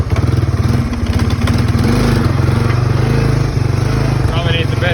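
A Honda 300 Fourtrax ATV engine idles roughly and steadily up close, its low throb loud and continuous throughout, with a slight dip in level partway through.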